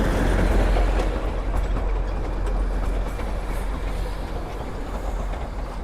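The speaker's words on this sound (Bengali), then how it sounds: "যেটার অপেক্ষায় এখানে সবাই দাঁড়ায় সেটা হচ্ছে এই যে টয় ট্রেন।" Darjeeling toy train rolling past at Batasia Loop, a loud continuous low rumble of wheels and carriages close by that slowly eases off as it moves along, with no talk over it.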